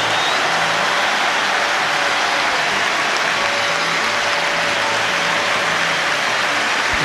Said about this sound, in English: The crowd erupts, they love this